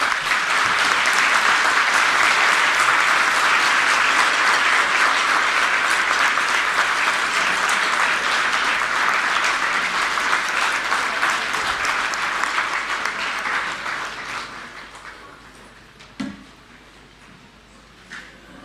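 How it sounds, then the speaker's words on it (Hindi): Audience at a government school event in Sector 5, Rohini, Delhi clapping loudly and steadily for about fifteen seconds before the applause fades to scattered claps. "एक बार जोरदार ताली बजाएं"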